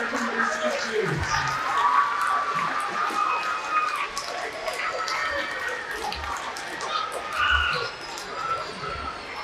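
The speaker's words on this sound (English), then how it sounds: "Give your friends a round of applause" Children in a ballet presentation audience clap and cheer, a short burst of mixed applause and excited shouts that rises and then fades.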